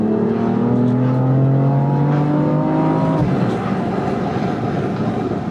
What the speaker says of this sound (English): this exhaust is definitely not something to be ashamed of